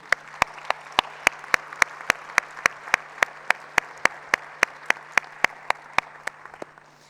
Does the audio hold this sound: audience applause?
yes